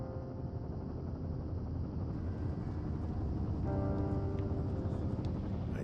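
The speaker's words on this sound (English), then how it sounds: "There's the helicopter." A helicopter arriving in the video game Firewatch makes a continuous loud, rumbling rotor and engine roar that fills the scene and grows slightly stronger partway through, with no voices over it.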